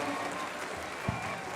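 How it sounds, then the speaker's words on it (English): An audience applauds at the Miss Indian World pageant, with a dense, steady wash of clapping from a crowd in a large hall running throughout. "let's give a big round of applause to all the royalty that came out here"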